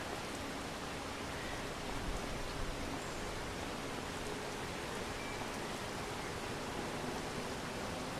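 Steady rain falls in the Farming Simulator 25 video game, a dense, even hiss that holds level and loud from start to finish with no voices over it.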